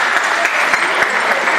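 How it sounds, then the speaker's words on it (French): Loud, close crowd applause with scattered sharp claps rings out at a football gala match between AJ Aulnay and Sélection Centre, continuous for the whole moment. "On peut applaudir très fort"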